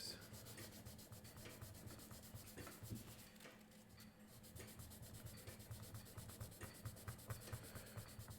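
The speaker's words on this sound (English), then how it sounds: "So now I'm going to start sanding this." Steady rubbing strokes of sandpaper on the wooden frog of a handmade violin bow, close and quiet, with a rhythmic scratch that quickens toward the end.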